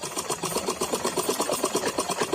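A sewing machine runs steadily, joining the cloth pieces of a churidar pajama, with a fast, even needle rhythm that stays close and loud throughout, with no voices.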